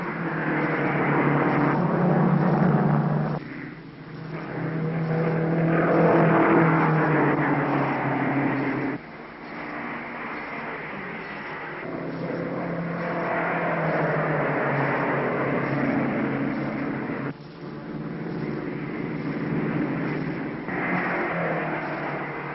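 Racing cars from the 1953 Formula 1 season run at speed, with a continuous engine drone rising and falling as cars pass. Old broadcast audio with a narrow band.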